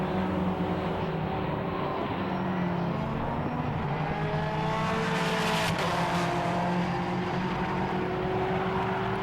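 Endurance race cars, including the Team Brit Aston Martin, circuit Silverstone International, making a steady, dense engine roar throughout, with a rising pass swelling midway over distant multi-car drone.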